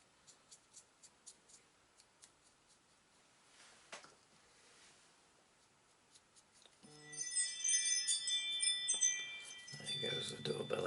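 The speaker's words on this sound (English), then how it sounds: "There goes the doorbell again." A doorbell chimes indoors, a bright ringing tone with a few quick repeats in the later part, after a series of soft taps and ticks from miniature-painting work at a desk.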